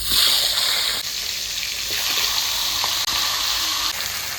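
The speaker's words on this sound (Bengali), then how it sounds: "তেল গরম হয়ে গেছে, মাছের মাথাগুলো ভেজে নেব।" Fish heads fry in hot oil in a kadai, a loud, dense, even sizzle that holds for the whole stretch with a few faint clicks and no speech.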